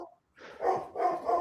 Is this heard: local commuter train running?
no